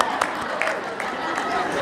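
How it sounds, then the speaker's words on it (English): A conference audience at the NAEYC national conference in Nashville claps in scattered bursts, with a voice speaking over the applause and crowd murmur. "Give yourselves a round of applause"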